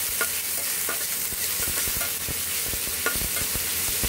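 Onion and mixed vegetables stir-fried in hot oil: a steady close sizzle with repeated scraping stir strokes of a utensil against the pan, no talking.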